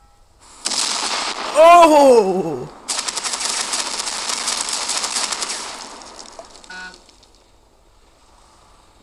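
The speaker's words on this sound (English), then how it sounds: "What an explosion." A burst of video game sound effects from Crossy Road: a sharp rising and falling tone followed by a dense crackling explosion burst lasting a few seconds, with a brief exclamation from a person over it.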